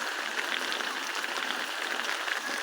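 Steady unseasonal rain on a farm, falling on heaps of harvested groundnuts, hisses in a soft, even patter, faint and constant throughout with no talking.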